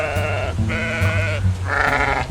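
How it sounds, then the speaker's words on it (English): Cartoon sheep bleating in three long wavering calls, loud and close in an animated scene, with no speech over them. "stop threatening my sheep"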